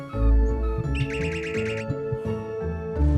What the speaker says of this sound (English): It was the voice of a nightingale.